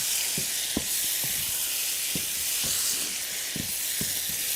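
Shrimp, green beans and potatoes sizzling loudly in a hot pan, with a strong steady hiss and a series of sharp scrapes and knocks from stirring, close up and alone.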